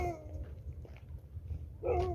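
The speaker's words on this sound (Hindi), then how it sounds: "कुत्ता भौंक रहा है" A dog at night by a river or pond gives a few whimpering, yelping calls, one at the start and another near the end, over a low background rumble.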